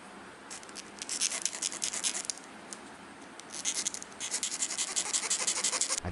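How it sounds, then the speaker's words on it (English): Metal file rasping back and forth across a cut watch crown stem, a close, dry scratching in uneven strokes with brief pauses, no voices. "Cut and then file the stem."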